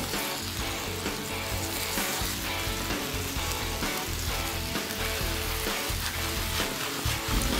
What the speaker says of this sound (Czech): Během pečení rybu otáčíme a opékáme ze všech stran.